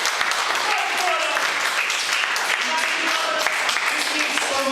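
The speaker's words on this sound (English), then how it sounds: "Could we please have a warm round of applause for one of the greatest people on this planet?" A college lecture hall audience breaks into warm, sustained applause for a guest lecturer, dense clapping at a steady loud level throughout, with some voices mixed in.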